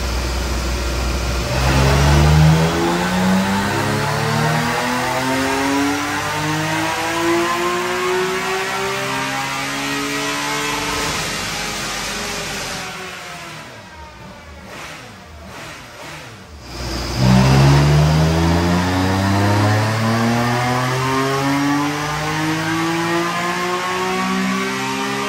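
A tuned 2022 BMW K1600 motorcycle engine on a dyno, revving up through long rising sweeps, dropping off, then climbing again in a second loud pull.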